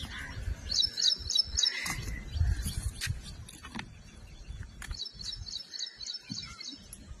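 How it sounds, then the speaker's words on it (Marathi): Asian koel calling in a rural village setting near a forest path: two bursts of rapid, repeated high calls, one early and one later, with some background rustle and low noise between them. "कोकिळेचा आवाज येतोय."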